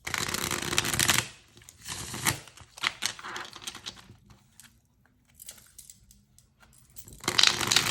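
Tarot cards are shuffled in quick riffling bursts, with quieter tapping and shuffling between, then a final loud riffle at the end.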